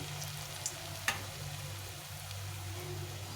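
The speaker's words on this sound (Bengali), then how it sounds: "বড়াগুলো আগে প্রথমে ভেজে নিতে হবে ভালো করে" Lentil fritters (dal bora) fry in oil with a soft, steady sizzle over a low background hum, with a couple of brief clicks and a sharper tap near the start.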